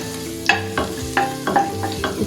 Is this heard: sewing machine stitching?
no